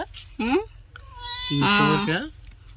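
A cat meows close by, first a short call and then a longer, wavering meow, over faint background noise.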